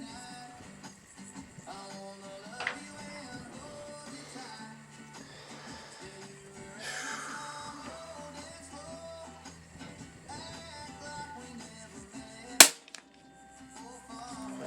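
A Hatsan BT65 .357 air rifle, tuned and firing heavy slugs, lets off a single sharp shot near the end, heard over quiet background noise and faint clicks.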